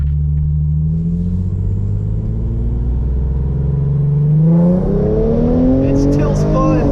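A Hyundai Genesis Coupe 3.8 with an AlphaSpeed tune pulls hard in second gear, its loud engine note rising steadily as the revs climb, recorded close and continuous, with a voice speaking over it.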